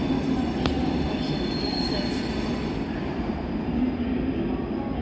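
NS Vectron locomotive hauling a train through Cologne main station, a steady loud rolling rumble with hum and a brief high squeal, continuous throughout.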